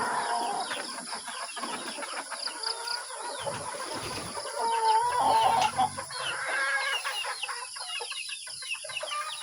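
Chickens cluck and squawk in a backyard breeding pen, a busy mix of close and farther calls, with occasional louder bursts and no talking.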